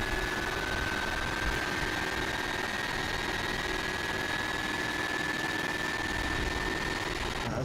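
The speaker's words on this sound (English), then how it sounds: "So we're going to go ahead and do a startup outside." An airliner jet engine runs outside on startup, a loud, even roar with a sustained high whine layered over a broad rumble, unchanging throughout.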